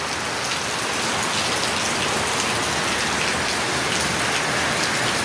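Heavy monsoon rain pours steadily over rural farmland in Maharashtra, a dense, loud, unbroken hiss of drops striking surfaces close by, with no voices.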